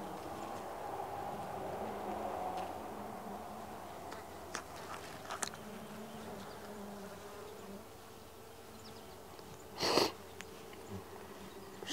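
Honey bees buzz steadily on a brood-filled hive frame, a dense close hum with soft clicks and one brief louder rustle near the end.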